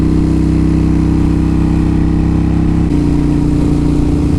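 A 2007 Kawasaki Vulcan Mean Streak motorcycle engine runs steadily on a cold day, a loud close low throbbing rumble with a brief shift in pitch partway through.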